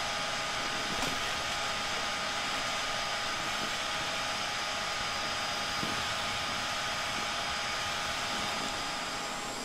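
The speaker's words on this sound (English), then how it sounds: "I'm just trying to vacuum up the adults." A weak vacuum runs steadily at a ground nest of yellow jacket wasps, sucking up the adult insects; a continuous, close, even roar of airflow with faint ticks of debris, no talking.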